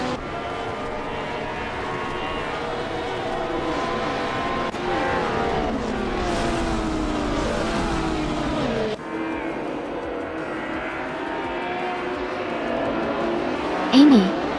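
Race cars in a video game roar off the line at the start of a race, a dense continuous engine drone with shifting pitch, a brief tire squeal near the end, and speech over the engine noise.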